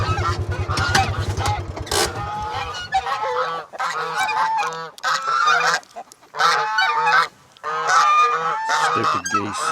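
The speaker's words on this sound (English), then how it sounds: "Stupid geese." Geese on a farm honk loudly and close by, a fast run of rhythmic honks followed by repeated bursts of harsh, overlapping calls with brief gaps between them.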